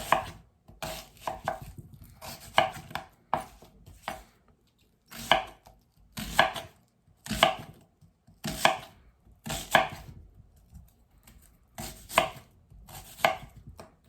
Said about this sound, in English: now we're going to cut it into about 1/4 inch slices like this